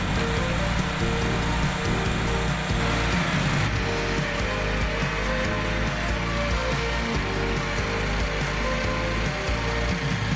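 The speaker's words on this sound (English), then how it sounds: "drilling a test hole with the borer" Loud, steady mechanical grinding and clattering from a borer drilling a test hole in opal country, with a low engine rumble running throughout and a rattling, ratchet-like texture.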